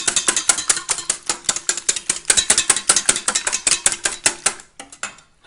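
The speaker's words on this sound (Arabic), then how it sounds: "نخفق" Milk, eggs, salt and pepper whisked together for Czech-style oven potatoes, producing a fast, steady run of sharp metallic clicks of a whisk against a bowl, loud and close, slowing and stopping near the end.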